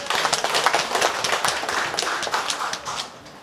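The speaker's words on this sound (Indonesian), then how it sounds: "Mari kita tepuk tangan dulu." Audience applause at a university launch ceremony for new accounting and management degree programmes: many hands clapping steadily in a hall for a few seconds, fairly close and dense, fading slightly at the end.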